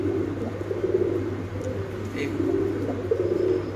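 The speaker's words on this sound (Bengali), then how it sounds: "আমরা যদি একটু কবুতরের ডাকটা দেখাই" A breeding pair of pigeons cooing close by in repeated low, throaty phrases, heard over a steady background hum.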